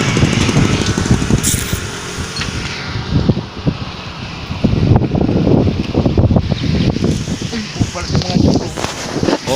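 Strong wind buffets an outdoor microphone in rural Bicol farmland near coconut trees and rice fields, a loud, continuous rumbling gusting roar that swells and surges throughout, with people talking faintly beneath it.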